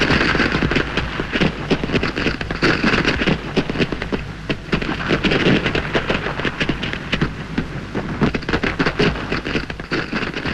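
A dense, continuous crackle of fireworks pops and bursts, loud and steady, with a busy rattling texture like an old 1953 recording, at a sports ground opening in Chesterfield.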